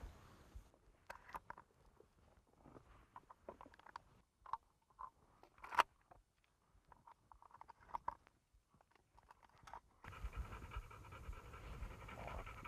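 Hunting dogs pant in quick, irregular bursts on a duck hunt along the Texas coast, quiet and close, with light shuffling and rustling, then a louder steady background noise toward the end.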